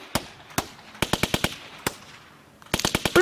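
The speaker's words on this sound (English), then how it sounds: "It's made out of gunshots. Gunshots are the beat." Sharp gunshots crack in rhythmic bursts as a music beat, single shots followed by rapid clusters, forming a punchy, beat-like pattern with no other sound.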